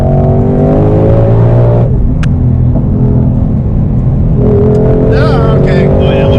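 A 2020 Ford Shelby GT500, the 760-horsepower model, accelerates hard in sport mode on a canyon highway, its engine roaring loud and close from inside the car, with rising revs, a brief shift dip and excited voices over it.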